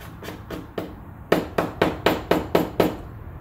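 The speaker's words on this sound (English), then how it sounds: "the plan is just to hammer them down, hammer them over" Steady hammer blows drive long nails into wood and bend them over into hooks, about nine sharp, close strikes: a few lighter taps, then a run of louder, evenly spaced hits.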